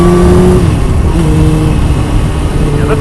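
A 1999 Suzuki GSXR 750 SRAD motorcycle engine runs loud and close in a steady, droning rev with wind rush over it and faint talk underneath.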